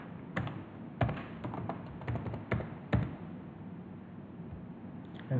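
A username and password being typed on a computer keyboard, a run of close irregular key taps with a few heavier strokes, no talk.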